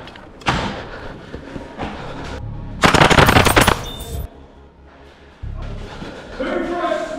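An airsoft AK74 gas blowback rifle fires rapid bursts of loud, sharp cracking shots during an indoor skirmish, with thumps and shuffling between bursts.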